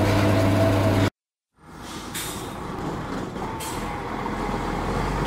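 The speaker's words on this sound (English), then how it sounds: "Trailer." A trailer truck rumbles close by with steady heavy engine noise, a brief dropout near the start, then sharp hissing releases from its air brakes over the continuous drone.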